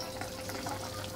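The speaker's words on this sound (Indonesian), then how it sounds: "semurnya sudah matang, sudah mendidih-mendidih" Beef and potato semur stew bubbling in a pan, a steady close simmering and sizzling hiss with faint bubbling pops throughout, no voices.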